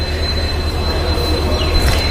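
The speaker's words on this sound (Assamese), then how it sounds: "আহি পালে ট্ৰেইন" A train pulls into a station with a loud, continuous rumble of rolling wheels and a thin high steel squeal running on top, close by and without speech.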